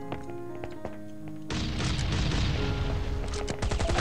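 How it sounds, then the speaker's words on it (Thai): Booming video game explosions and rapid gunfire-like bursts erupt after a quieter stretch, dense and loud, with repeated sharp impacts layered over a rumbling roar. "มีเสียงระเบิดอยู่ข้างนอก"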